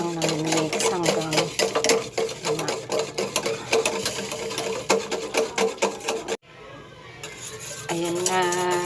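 Flour stirred into gravy in a pan, a steady scraping and swishing of a utensil against the cookware that runs continuously, close and fairly loud, with a brief drop near the end before resuming.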